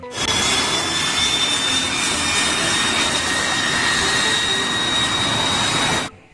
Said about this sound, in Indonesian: ada pesawat jet tempur lagi teman-teman